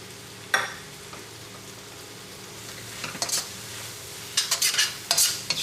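Masala powder stirred into tomatoes cooking in coconut oil for a Kerala chicken dish, a soft background sizzle broken by scraping spoon strokes against the pan that grow busier toward the end, with no voices.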